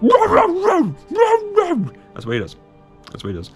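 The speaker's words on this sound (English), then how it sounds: "I'm sorry for my dog barking." A dog yips and barks in short bursts with howl-like rising notes, close and loud, while someone talks over it.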